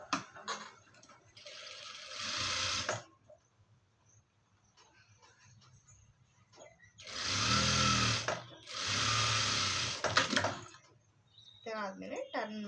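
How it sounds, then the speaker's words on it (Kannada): Sewing machine stitching lining and main cloth together, running in several loud steady bursts separated by quiet pauses, with a voice speaking briefly near the end. "ಈಗ ಇದು ಸ್ಟಿಚ್ ಮಾಡ್ಕೊಳ್ಳೋಣ."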